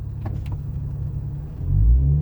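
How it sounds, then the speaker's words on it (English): A fire truck pulls out, a low engine rumble close by that swells louder toward the end as it accelerates, with a couple of faint knocks early on. "but the fire truck is coming out"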